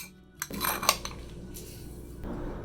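A spoon stirs sour cherry pie filling of sugar, cornstarch, a pinch of salt and a squirt of lemon in a bowl, giving close, soft scraping with a few sharp clinks against the dish and no talking.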